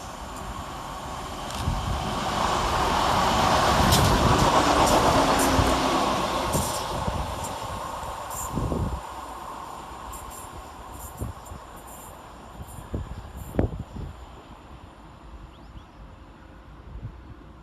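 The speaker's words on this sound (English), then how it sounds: "Coming around the corner, working 11 minutes late, is 168109, working 1R12 from London Marylebone to Birmingham Moor Street." A Class 168 diesel multiple unit rumbles through Tyseley railway station, a broad roar that swells and fades over several seconds, followed by rhythmic wheel clatter over rail joints and some high squeals as it moves away.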